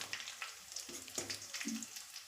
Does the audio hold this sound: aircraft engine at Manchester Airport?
no